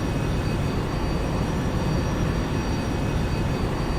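Steady loud roar of a Boeing 747 taking off above Seattle in the morning in the flight simulator X-Plane 11, a broad unbroken engine rumble with faint high whine throughout, no talk.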